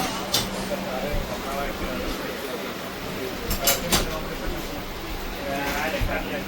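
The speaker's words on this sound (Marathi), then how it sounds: "ट्रेन आली" The Pune–Kanyakumari Express pulls into a railway station with a steady low rumble and a few sharp metallic clanks, while voices chatter on the platform around it.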